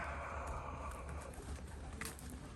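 Young racing pigeons cooing in a large loft, a soft continuous murmur of low coos under a steady background hiss, faint and unbroken with no talk.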